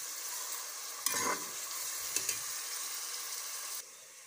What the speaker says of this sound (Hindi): प्याज को मैंने ऊपर पकने के लिए रख दी है